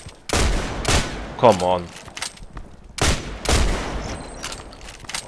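IZH-43 shotgun blasts in the online shooter Contract Wars: about four loud, sharp booms in two pairs, with a man's brief exclamation between them.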